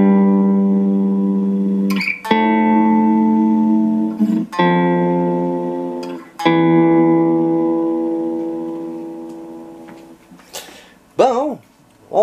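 Sustained electronic tones rich in harmonics play in a series of held notes, separated by sharp clicks, with a rounded, wobbling pulsation swelling on a later note before the sound breaks up at the end.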